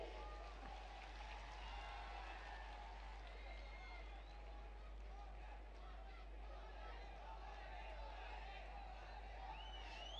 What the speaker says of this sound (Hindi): जोरदार तालियां आप सबकी तरफ से